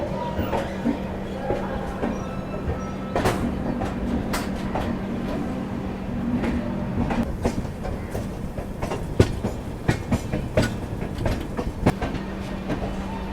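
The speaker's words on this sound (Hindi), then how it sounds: "यहाँ 7:10 पर अपनी जो ट्रेन है Rajendra Nagar terminal railway station में पहुँच चुकी है।" The Sampoorn Kranti passenger train rolls into Rajendra Nagar Terminal station in Patna, its steady wheel rumble broken by rhythmic clickety-clack rail joints and sharp metallic clanks that grow more frequent as it nears.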